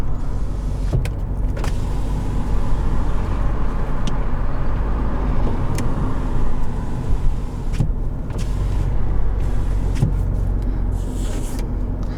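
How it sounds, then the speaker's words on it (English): Power windows on a 2018 Hyundai Santa Fe Sport run down and then back up, a steady motor whine lasting several seconds with small clunks at the stops, heard inside the vehicle with no talking. "The two front windows are full automatic, down and up."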